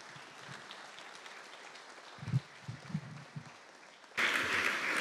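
Brief applause breaks out near the end at an Italian regional ceremony for the Abruzzo accounts ruling, honouring the president. Before it, faint room noise and a few soft knocks; then the clapping begins loudly, fairly close, and continues to the end.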